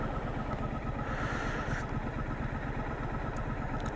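A 2017 Triumph Street Scrambler motorcycle engine thrums steadily while being ridden, a continuous low pulsing drone with wind noise, close and even throughout with no speech.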